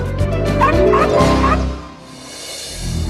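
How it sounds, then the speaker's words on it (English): A tiny dog, one of the world's smallest, gives a rapid run of high, yappy barks up close, then falls quiet before a faint rustle at the end. "the world's second smallest dog is Buddy's sister, Monica"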